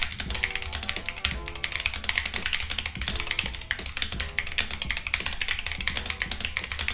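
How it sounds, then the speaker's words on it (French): Rapid, steady typing on an Epomaker TH80 mechanical keyboard with blue switches, crisp clicky keystrokes tapping continuously and close up, with no talking. "Nous allons maintenant faire un test son du clavier. Et je vais écrire et on va écouter la résonance du clavier."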